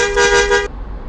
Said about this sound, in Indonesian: Lalu klakson nomor 1.